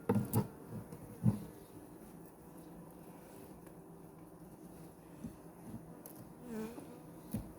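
Honey bees hum steadily around an open hive during a frame inspection, a soft continuous drone with a few louder thumps and knocks from handling near the start, and no voices.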